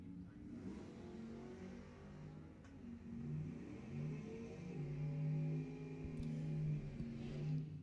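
A 1966 Mustang notchback at a drag strip in the finals of a gamblers race, its engine revving with a rising, droning roar that builds and holds through the run, heard at mid distance.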